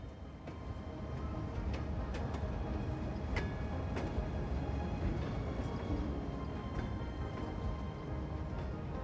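A train rolling past in the Cities Skylines 2 city-building game, a continuous low rumble with faint rhythmic rail clicks and occasional metallic squeals, steady and moderately near, no voices.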